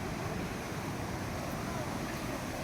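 The Karumalai Estate waterfall in Valparai produces a steady, rushing roar of falling water that fills the whole stretch evenly, with no breaks or separate sounds standing out.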